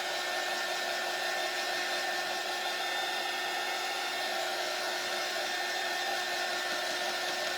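A hair dryer runs in a steady, even whoosh while drying a sunflower watering can shelf-sitter craft, close and constant throughout with no talking.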